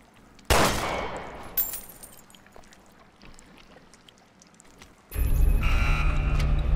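A single loud gunshot in Resident Evil Revelations 2 cracks out sharply and decays over about a second, followed by faint game clatter and a burst of loud rushing noise near the end.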